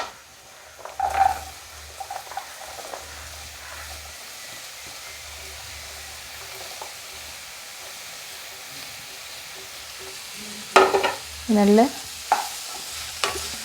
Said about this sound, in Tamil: இதுக்கப்புறம் நம்ம நறுக்கி வச்சுருக்க புடலங்காய் உள்ளே ஆட் பண்ணிக்கிடலாம்